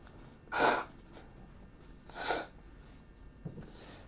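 Someone blows their nose in two loud, close nasal bursts a couple of seconds apart, followed by a softer sniff, in an otherwise quiet room.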